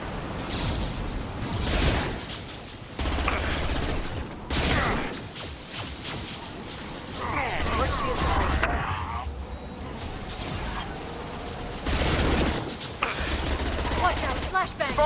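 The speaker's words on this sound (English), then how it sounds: "Firing an impact shot!" Gunfire and an impact shot in the Mass Effect 2 game: bursts of loud weapon fire and sharp blasts come in clustered volleys with whooshes, pauses between them, and voices heard now and then.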